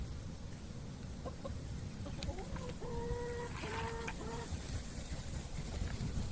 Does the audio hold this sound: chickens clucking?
yes